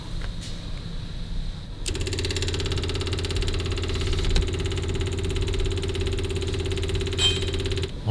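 A 1930 Packard 733 Victoria Coupe engine idles low and steady, then picks up with a sudden jump into a louder, rougher run that holds for several seconds, close by, as more fuel is given.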